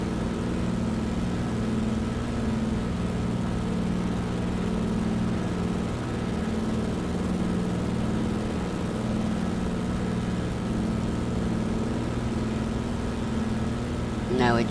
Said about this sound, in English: enjoy the engine noise